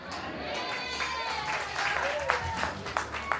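A church congregation claps during a praise and worship service, moderate and fairly even applause with voices and some singing-like tones over it.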